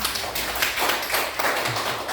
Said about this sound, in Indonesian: Kita tepuk tangan untuk Ika